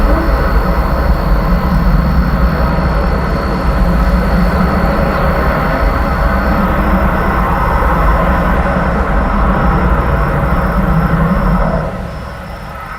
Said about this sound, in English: it clearly sounds like a static fire test of a very small Methalox engine.